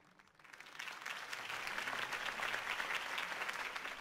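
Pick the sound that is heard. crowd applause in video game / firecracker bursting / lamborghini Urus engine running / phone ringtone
crowd applause in video game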